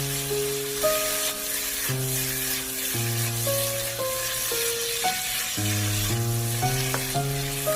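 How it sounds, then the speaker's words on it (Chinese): Chili bean paste and cooking wine stir-frying in a wok, giving a steady sizzle beneath louder background music throughout. "从锅边淋入1勺料酒，然后翻炒几下。 再加入1勺豆瓣酱，炒出红油，炒出酱香味。"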